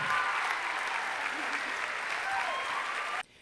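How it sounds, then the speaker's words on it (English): A full round of applause from the audience at a local Dancing Stars competition for the second dance couple, dense and sustained clapping that stops abruptly near the end. "How about a round of applause?"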